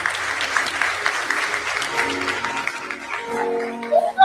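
Applause fills a church, a dense clapping wash from a large congregation under a speaking voice, with a tonal note rising toward the end.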